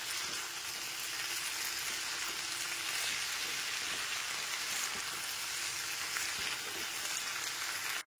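Mixed winter vegetables sizzle and fry steadily with cumin powder while being stirred, a dense, continuous crackling hiss that holds level throughout before cutting off abruptly at the end.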